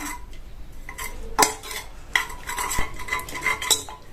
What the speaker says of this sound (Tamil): இத ஒரு கரண்டியோட பேக் சைடு வச்சு நல்லா இந்த மாதிரி மசிச்சு விட்டுட்டு இதை தனியா எடுத்து வச்சிடலாம்.